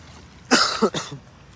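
Two quick coughs in close succession, fairly loud and near, with a faint trailing rasp and no talking.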